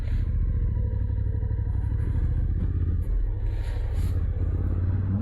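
A motorcycle cruises along the open road, its engine a steady, loud, close rumble mixed with heavy wind buffeting from a helmet-mounted mic, unbroken for several seconds with no clear gear changes.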